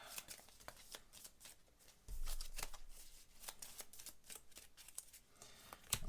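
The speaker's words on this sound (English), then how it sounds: "we will shuffle these up" Thunderstone Quest game cards being shuffled by hand at a tabletop: a close run of crisp, papery riffles and flicks repeating steadily, with a low thump midway, and no voices.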